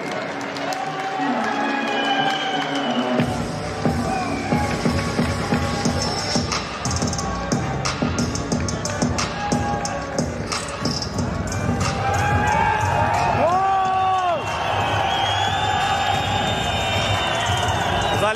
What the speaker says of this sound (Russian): Ваш аплодисменты!